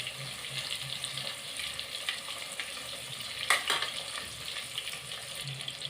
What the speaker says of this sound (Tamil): இப்போ இதை பாதி மீன் ஃப்ரை பண்ணிடுவேன்.